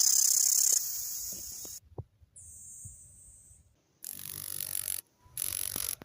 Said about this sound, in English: Male cicadas have tymbals on either side of their upper abdomen that produce this loud sound that attract the females in courtship.